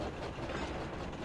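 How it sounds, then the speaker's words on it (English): Freight car shuddering in the Trainz railway video game, a dense rattling clatter of rail wagon noise with rapid mechanical clicks, loud and continuous throughout the short moment, with no voices. "Suddenly, a freight car began to shudder and shake."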